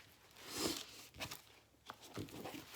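A deck of reading cards is shuffled close by, giving soft papery riffles and rustles in several quick bursts, faint and quiet with no talking.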